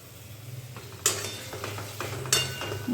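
Tomato paste added to ginger and garlic frying in a pan, with a steady sizzle, a couple of sharp spoon clinks on the metal and soft stirring scrapes, close and moderately loud, no voices.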